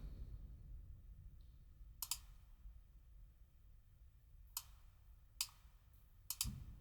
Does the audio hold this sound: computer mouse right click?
yes